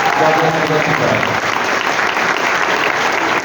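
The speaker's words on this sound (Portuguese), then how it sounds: "eu queria também pedir uma salva de palmas a todos os pesquisadores, pesquisadoras da nossa universidade" Hall full of people clapping at a university rector's inauguration, giving a round of applause to the university's researchers. The dense, steady applause is loud and close, and a voice speaks over the opening second.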